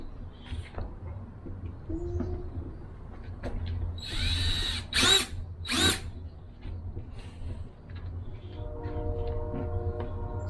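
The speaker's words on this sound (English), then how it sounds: "we'll drill a hole where they're poking down" A power drill bores a hole through a plastic 5 gallon bucket for a soil-free hydroponic garden. Two loud, short bursts of drilling sound close by, with quiet handling noise before and after.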